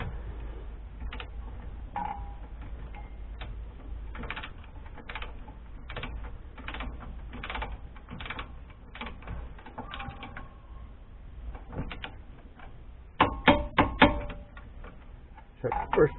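A ratchet wrench works the caliper bolts on the front brakes of a 2011-2017 Hyundai Accent during a pad and rotor job, giving close, steady runs of sharp clicks with a louder, denser burst near the end.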